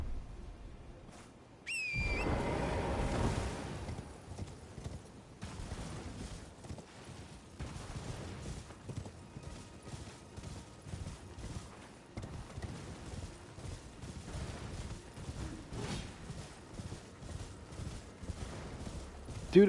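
A horse gallops in the fantasy game Elden Ring, its hooves thudding in a quick steady rhythm for most of the stretch after a sudden loud burst near the start, with background game sounds and someone talking.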